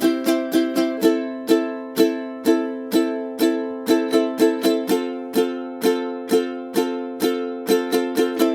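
Steady bright ukulele strumming, mostly even downstrokes in a regular rhythm with a quick extra upstroke near the end of each bar.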